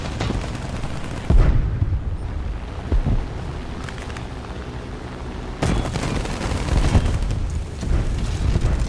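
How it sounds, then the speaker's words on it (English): Aircraft gunfire in War Thunder air arcade, sustained loud bursts of rattling cannon and machine-gun fire over a constant roaring engine and wind rush, with two sharp surges of firing and no talking. "How many people are shooting at me?"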